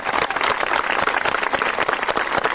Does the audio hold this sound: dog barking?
no